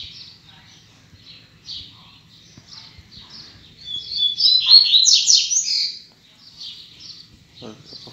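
Several coleiro seedeaters, a type of songbird, twitter and trill close by near grass and a pomegranate tree, with rapid overlapping chirps that build to a dense burst in the middle before easing back.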